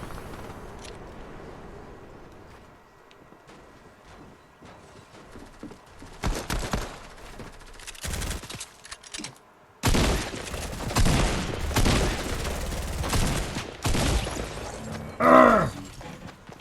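Fortnite gameplay with bursts of rapid gunfire, scattered single shots, then louder sustained volleys of shooting building up toward the end, with game sounds between.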